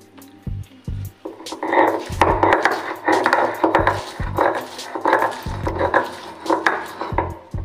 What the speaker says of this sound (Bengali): প্রথমে রসুনটা বেটে নিচ্ছি